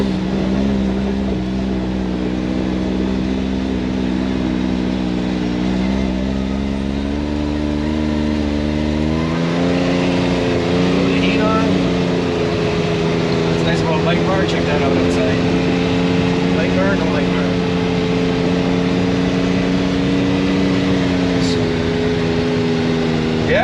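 Can-Am Maverick X3 side-by-side engine running outdoors in snow: a steady mid-pitched drone with low rumble that shifts and rises partway through, under continuous talk.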